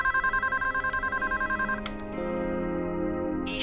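Telephone ringing while a call is placed to Tina in a Hindi TV drama scene: repeated pulsed electronic ring tones for nearly two seconds, then a steady ringback tone, loud and close.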